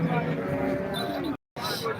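A cow lows at the Modnimb cattle market among livestock sellers, a drawn-out, fairly close moo over market bustle, broken by a brief silent gap before the noise resumes.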